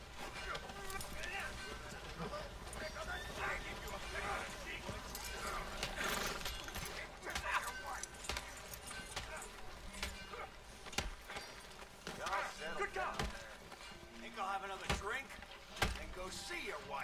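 Horse hooves and snorts from Red Dead Redemption 2, heard near a general store as the horse is hitched, steady close clatter under continuous game sound with someone speaking over it.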